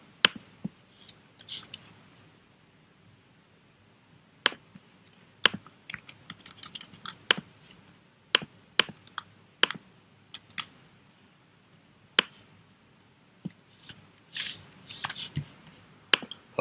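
A computer keyboard being typed on in scattered bursts of sharp, close key clicks with pauses between runs, quiet background and no speech.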